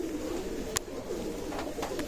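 Teddy pigeons coo softly with low, steady murmuring tones, a close but quiet cooing layer with a few sharp clicks over the top.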